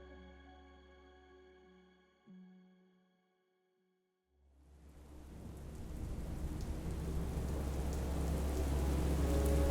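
Rain patters on surfaces in a growing wash of noise after a brief lull, with low thunder rumbling beneath, starting faint and building steadily louder toward the end.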